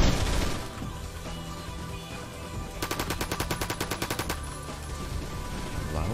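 Rapid automatic gunfire from a weapon in the first-person shooter Phantom Forces, a dense burst of loud repeated shots in the middle of the clip over game ambience.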